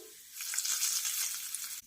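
A hot tempering of oil with browned garlic sizzles loudly as it hits the batter, a steady crackling hiss lasting about two seconds before stopping abruptly.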